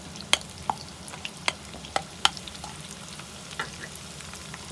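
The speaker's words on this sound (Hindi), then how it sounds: "प्याज डाल देते हैं, प्याज को फ्राई करते हैं।" Onions and white cumin seeds frying in a pan for a bell pepper and potato dish, giving a low steady sizzle broken by a few sharp utensil clicks and taps.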